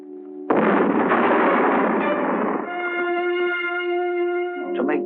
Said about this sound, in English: decides to shoot off this ancient cannon to attract the Black Menace.